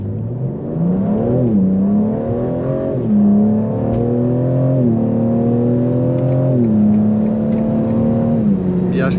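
A 2021 BMW M4 Competition accelerating hard from a standstill, its engine note climbing repeatedly through the gears with brief dips at each upshift, loud and close as from inside the car.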